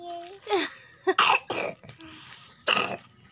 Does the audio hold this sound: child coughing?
yes